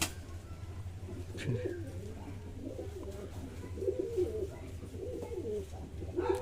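Pigeons coo softly nearby after being bathed, low repeated throaty calls rising and falling over a steady background hum, with a brief higher chirp partway through.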